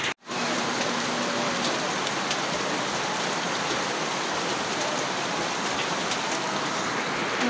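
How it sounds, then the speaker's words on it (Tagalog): Heavy rain pours down steadily, a dense, constant hiss of water hitting surfaces, loud and unbroken for several seconds. "Malakas na naman ang ulan."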